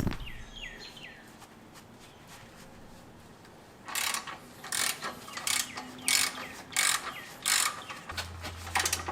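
A ratchet clicking on 17mm brake caliper bolts of a Lexus, a run of about seven sharp, close ratcheting strokes in a steady rhythm after a quiet start with faint chirps.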